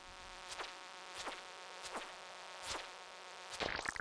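Fly enemies buzz in Stardew Valley, with several quick whining swoops passing at intervals over a faint steady game hum, ending in a brief burst of clattering game noise.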